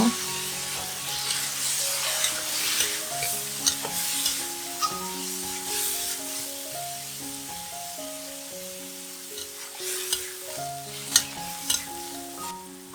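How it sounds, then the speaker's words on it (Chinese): Thai basil tofu is stir-fried in a wok after water goes in, with a soft bubbling sizzle under repeated scraping and clattering strokes of a spatula, some sharp knocks standing out. "倒入大约120毫升的水，炒一炒。"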